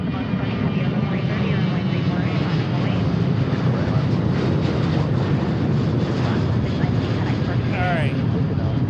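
A Delta heavy jet at Seattle airport roars steadily through its takeoff run, a loud broadband rumble that holds throughout, with people talking over it.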